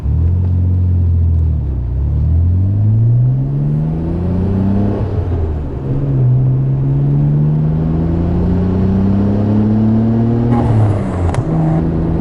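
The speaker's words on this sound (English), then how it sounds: "A little bit of a backfire there" A 1992 Nissan R32 Skyline GT-R engine hums and revs steadily close by, then lets out a brief sharp backfire pop near the end.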